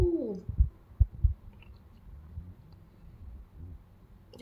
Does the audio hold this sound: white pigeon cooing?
yes